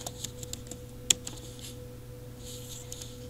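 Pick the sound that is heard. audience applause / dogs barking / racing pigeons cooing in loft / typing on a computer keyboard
typing on a computer keyboard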